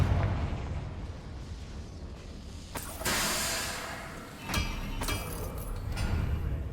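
Confringo fire spell explosions in the video game Hogwarts Legacy: several sharp blasts and bursts, rather quiet, scattered over a low rumbling game backdrop.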